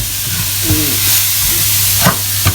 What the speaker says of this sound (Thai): ใส่ข้ากะทิ กวนไปเรื่อยๆก่อนเนาะค่ะ